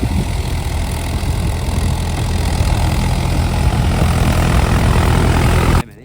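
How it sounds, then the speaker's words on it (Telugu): A loud, steady engine drone with a low rumble from a tractor ploughing a paddy field for rice transplanting close by, running unbroken for several seconds, then cutting off abruptly near the end. "సో దున్నుడైతే ట్రాక్టర్ దున్నుతూనే ఉంది"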